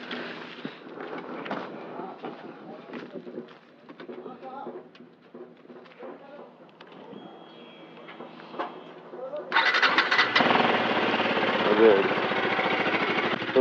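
A motorcycle engine is started during a motovlog ride from Angul to Sambalpur in Odisha. Someone talks over faint background noise, then the engine abruptly catches and runs at a loud, steady rumble for the last few seconds.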